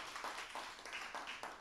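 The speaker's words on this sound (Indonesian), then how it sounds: "Kalau engkau diberkati, berikan tepuk tangan buat Tuhan Yesus." A church congregation claps along after a sermon prompt, a faint, steady patter of many hands at a distance with no voices over it.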